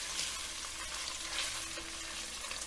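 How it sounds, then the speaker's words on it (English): Onion and garlic frying together in a pan for a beef and pork ragù, a steady soft sizzle with faint stirring scrapes, close and fairly quiet, no voices. "You're going to cook the onion and the garlic together just like that."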